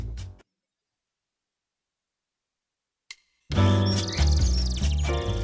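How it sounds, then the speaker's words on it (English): Synthetic birdsong effect in a Band-in-a-Box 2012 arrangement, with a brief chirp early on, then a sudden loud, dense twittering layered over music after about three seconds of silence. "And we now have birds twittering away."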